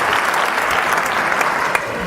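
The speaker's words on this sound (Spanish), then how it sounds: "El aplauso es para Mari Carmen." Brief, loud applause from an audience at a talk, a dense wash of clapping with no voices.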